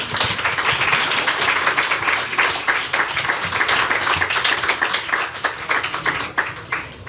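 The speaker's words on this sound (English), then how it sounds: "Another round of applause, please." Audience at a design awards ceremony clapping steadily, a dense continuous wash of many hands close by, holding strong for several seconds before thinning slightly at the end.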